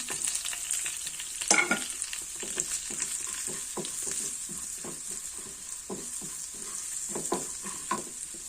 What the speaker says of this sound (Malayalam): ഒരു കാൽ സ്പൂൺ മുളക് പൊടി ഒരു അര സ്പൂൺ മല്ലിപ്പൊടി ഇടേണ്ടി അത് ഇടുവാണേ